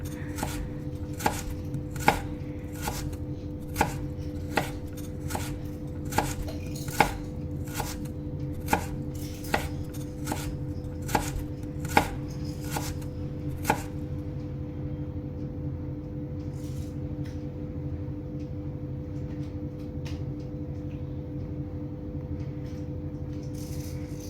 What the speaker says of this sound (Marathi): एक मोठा कांदा घ्या आणि तो व्यवस्थित मस्त असा बारीक चिरून घ्या